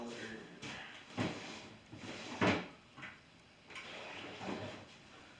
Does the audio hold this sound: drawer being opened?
yes